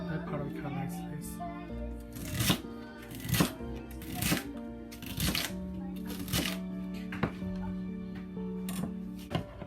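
Knife chopping the white stems of bok choy on a cutting board, a series of sharp, irregular cuts close by under background music and a speaking voice.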